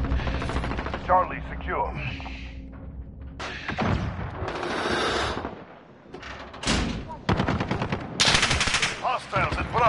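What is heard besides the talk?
gunfire in a video game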